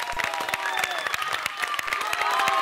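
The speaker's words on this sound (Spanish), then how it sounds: "Un gran aplauso para Juan Carlos." A studio audience applauds and cheers a contestant on a Spanish-language game show, with crisp individual claps close by over a louder crowd and voices threading through.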